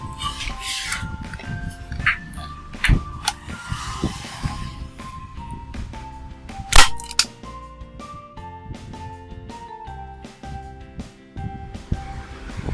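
A MAX TG-A gun tacker fires staples into thick pallet wood, giving two sharp, isolated snaps a few seconds apart over steady background music.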